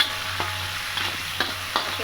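Curry leaves, lemongrass and tomato frying in a pan for tempeh sambal, a steady close sizzle with three or four soft scraping strokes of stirring.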